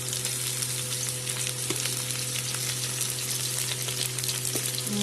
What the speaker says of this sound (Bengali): এখন এগুলো ভাজা হবে